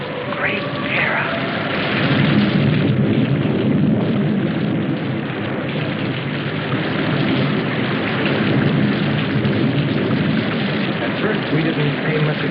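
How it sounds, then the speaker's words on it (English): Heavy rain pours down in a dense, unbroken roar, with low rumbling thunder beneath, loud and steady throughout. "We didn't pay much attention to the rain, though it seemed heavier than any rain we'd ever seen."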